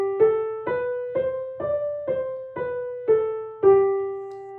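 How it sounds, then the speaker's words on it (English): Eight piano notes moving stepwise between adjacent pitches, struck one by one in an even, moderate rhythm, each ringing briefly, close and alone. "and the steps sound like this."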